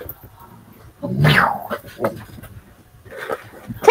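Dog making soft whimpering and yipping sounds while playing indoors, short bursts rising and falling across the moment, fairly close, with a louder yelp at the end.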